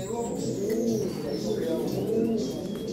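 Young pigeons in a loft give steady, rolling coos. The low, repeated warbles overlap one another at close range and continue throughout.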